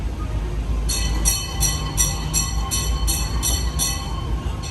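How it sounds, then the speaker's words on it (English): A Key West historic trolley tour train runs along with a low rumbling engine, while a bright, evenly spaced ringing or clicking repeats about nine times over it, nearby and fairly loud. "Next tour guide and engineer will be Frank in train 111"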